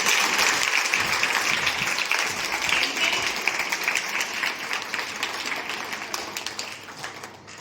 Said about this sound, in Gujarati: જોરદાર તાળીથી આપો